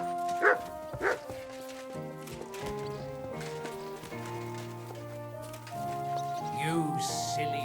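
Dog barking in the medieval open-world game Kingdom Come: Deliverance II, two sharp barks early on, mid-distance, over a steady layer of in-game orchestral music, with hoofbeats and ambient sounds later.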